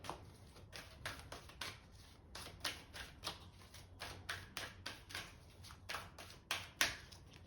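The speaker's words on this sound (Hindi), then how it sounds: "जब तक मैं इन कार्ड्स को मिक्स करूंगी" Tarot cards being shuffled close by produce a rapid series of crisp riffling bursts in a steady rhythm, each a short flutter of snapping card edges, with no talking during the shuffle.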